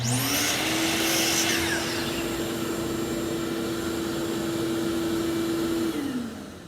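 A laser-guided power saw making its first cut through wood for an end table. The motor spins up to a steady, loud whine for about five seconds, then winds down.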